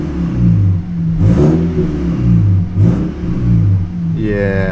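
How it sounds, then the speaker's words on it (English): An Audi in sport mode with a throttle controller revs hard and close, engine note rising and falling in repeated surges, loud throughout with a final climb at the end. "as soon as I press the gas, like it's already jumping"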